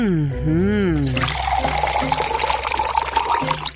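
Milk is whisked by hand in a cup, a busy liquid swishing and frothing that runs steadily for a few seconds after a short voiced sound at the start.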